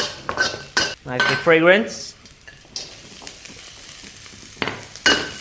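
Shiitake mushrooms stir-frying in a pan on medium heat, metal utensil scraping and clattering against the pan over a soft sizzle, with a voice speaking briefly near the start.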